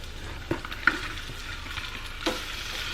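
Head-on shrimp fry in a pan with a soft, steady sizzle, punctuated by a few light clinks and scrapes of stirring; fairly quiet overall.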